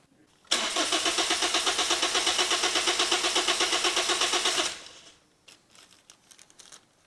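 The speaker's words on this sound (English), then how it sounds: "Just give it a real quick crank, make sure it doesn't make any funny noises." Car engine fitted with a newly installed cheap eBay turbo cranks on the starter for about four seconds in a fast, even, rhythmic whirring chug without catching, loud and close, followed by faint clicks and rattles.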